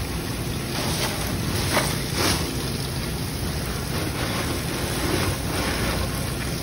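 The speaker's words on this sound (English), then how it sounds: "I need to plug up my sink and I need to put some water in here" Tap water rushes into a plugged kitchen sink to make an ice bath for chicken stock, a steady, loud, hissing splash that flows without a break.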